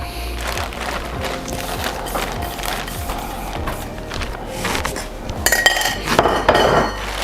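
Vegetables tumble into a seafood mix in a metal pot in a prison-made meal, with clattering clinks and scraping of utensil against pot, louder bursts of rattling near the end, and no talk.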